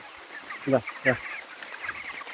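Broiler chickens about 23 days old and around two and a half kilograms each, in a poultry farm shed, give two short, distinct clucks close by over a steady background murmur of the flock.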